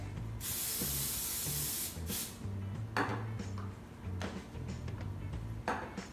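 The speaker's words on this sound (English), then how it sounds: "I spray it down again with cooking spray" A long, loud cooking spray hisses for about two seconds onto a turkey for roasting, followed by a shorter burst, then quieter clinks and taps nearby.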